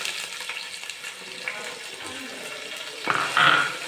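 Garlic sautéing in oil for a mango and carrot pickle, a close steady sizzle with soft stirring, then a brief louder burst as ginger is added, with a voice faintly under it.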